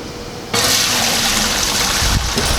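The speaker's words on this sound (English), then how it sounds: "right now I am gonna put my wort, which is my extracted sugar water from all my grain, into my kettle" Wort, the sticky sugar water extracted from brewing grain, poured into a brewing kettle: a steady, close rushing pour that starts abruptly after a brief quiet and keeps going without a break.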